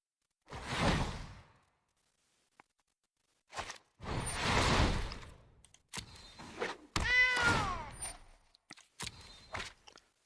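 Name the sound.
cat meowing from video game MTG Arena when cat card played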